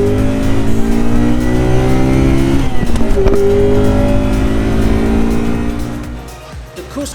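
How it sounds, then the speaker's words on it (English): Engine of a right-hand-drive Honda Accord Euro R (CL7) on a test drive, revving hard into VTEC with rising pitch, a brief break as the gear changes, then climbing again before fading, loud and close. "it's time to go for a test drive. Get a little VTEC in the Euro R."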